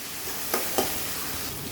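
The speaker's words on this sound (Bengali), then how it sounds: "এখন আলু আর চিংড়ি মাছগুলো ভালো করে ভেজে নেব" Steady, even frying noise of potatoes and prawns with a couple of brief scraping stirs, close and moderately loud, with no voices.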